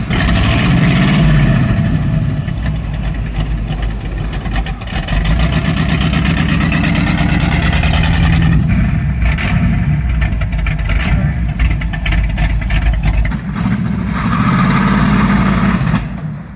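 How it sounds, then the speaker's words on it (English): A 1975 Chevrolet C10 pickup's engine runs loud and steady at close range, its throttle rising and falling in repeated revs, with a brief dip in the middle before it climbs again and holds to the end. "So now that we got the truck running right"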